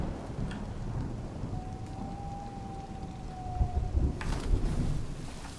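Heavy rain and thunder in the video game Investigator: a steady, dense downpour with low rumbling, a sustained tone through the middle and a louder crackling burst near the end, with no talking.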